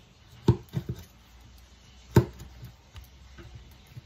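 A knife cuts through a pineapple on a board, giving a few crisp, close chopping thuds, two stronger strikes about a second and a half apart with softer taps between, in an otherwise quiet kitchen.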